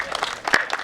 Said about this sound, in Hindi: तालियां, वाह, बहुत बढ़िया माखन, वाह।